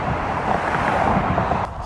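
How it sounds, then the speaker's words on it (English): Strong wind buffets a microphone outdoors by water where someone is fishing, a loud, continuous rumbling roar that drops slightly near the end. "So much wind."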